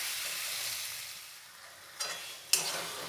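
Chicken pieces and potatoes frying in oil in a pan for a Bengali-style chicken curry, giving a steady soft sizzle with a couple of sharper stirring scrapes near the end, close by with no talk.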